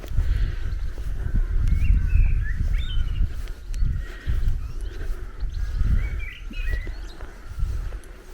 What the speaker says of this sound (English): I hear you, blackbird.